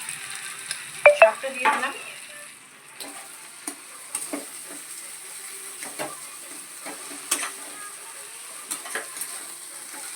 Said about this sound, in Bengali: আমি যে আলুটা সিদ্ধ করে রেখে দিয়েছি, এরপর এটা আমি দিয়ে দিলাম